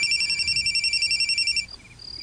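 A telephone bell rings in a Cebuano-language radio drama, a clear pulsing electronic trill repeating steadily for over a second and a half, then cutting off into a quieter room tone.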